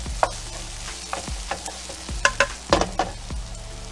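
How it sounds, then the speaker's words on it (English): Bell pepper vegetables sweat in a pan while being stirred, with irregular scraping and clacking utensil strokes over a soft sizzle, close by, clearer knocks near the end, and no voices. "so keep stirring these up"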